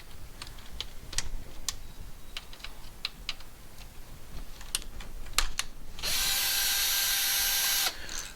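Bolts holding the axial fixation pin are removed from a BMW R1250 engine during a left-side valve clearance service, with close scattered clicks and taps of tools followed by a loud, steady power-tool whir lasting about two seconds.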